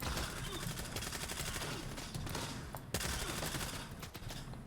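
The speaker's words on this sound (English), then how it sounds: "Trying to shoot in bursts." Bursts of submachine-gun fire in the video game Stalker 2, rapid volleys of shots packed together with brief gaps, loud and dense, sitting over a busy in-game background.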